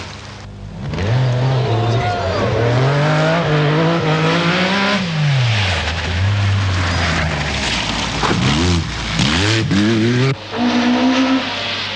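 A Lancia rally car runs a smooth Welsh stage in the 1979 Lombard RAC Rally, its engine note rising and falling through gear changes and revs, loud and near, with a narrator's voice over it.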